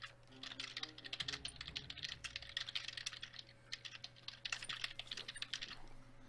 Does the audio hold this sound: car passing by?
no